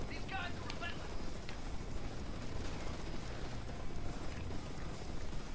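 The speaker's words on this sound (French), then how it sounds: "Où il est l'hélico?" A helicopter in the action game Devil's Third makes a steady, loud rotor drone that fills the scene without a break, mixed with background game noise.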